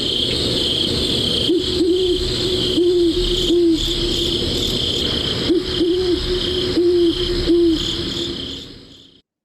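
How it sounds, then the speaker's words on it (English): A great horned owl gives low, soft hoots in short repeated series, fairly near, over a constant high chirring of crickets and insects at night. "Great horned owls hunt many different animals, including raccoons and squirrels."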